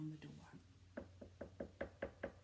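Light knocking on a wooden cottage door: a run of about eight soft, evenly spaced taps, growing slightly louder, right after a voice reading a story aloud.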